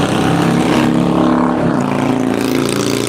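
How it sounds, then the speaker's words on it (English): A motorboat passes close by during boat races, its loud engine roar filling the whole stretch and then dropping slightly in pitch as it moves away. "I was hoping during this little live stream that the boat would come by."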